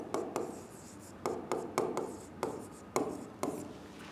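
Marker or chalk strokes on a board, a series of short, close scratchy bursts in uneven rhythm with brief pauses, fairly quiet and with no talking.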